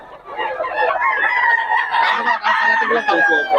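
A Boston Sweater gamefowl rooster crows loudly and close at a busy Bocaue market, its long strained call carrying over steady background clucking and murmur.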